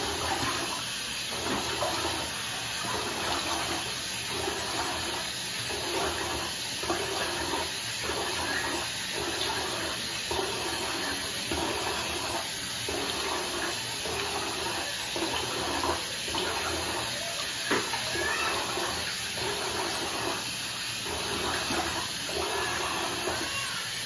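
Tap water runs steadily into a sink while someone rinses their face, a constant close splashing rush with faint rhythmic splashes over the whole stretch.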